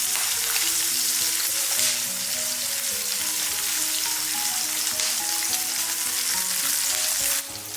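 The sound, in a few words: pork belly frying and sizzling in a pan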